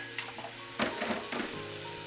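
Spices sizzle and spit in hot oil for a chicken tikka pulao, a steady faint fry with a few brief louder crackles and stirring scrapes over about two seconds.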